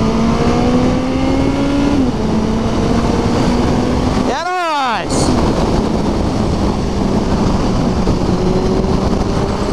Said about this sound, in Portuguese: Muito tempo não dou 200 essa moto